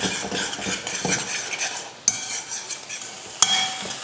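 A spatula scrapes and stirs crumbly egg poriyal in a pan, quick metallic scrapes and soft sizzling with a couple of sharp clanks, close and moderately loud, no talking.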